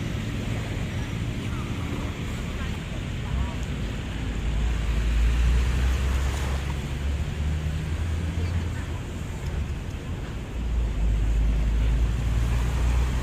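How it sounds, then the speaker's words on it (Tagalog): A passenger boat arriving from open water at Manila Bay, a steady low engine rumble mixed with wind and lapping waves, continuous and fairly loud throughout with no clear talk. "May bagong dating na bangka, mga kaibigan, ito. Galing sa laot."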